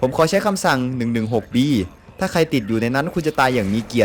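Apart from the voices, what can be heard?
No everyday noises stand out.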